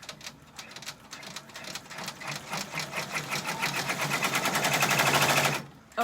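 A sewing machine stitches in a rapid, even mechanical rattle that builds louder and denser until it stops abruptly as the bobbin thread runs out, with a faint click afterward.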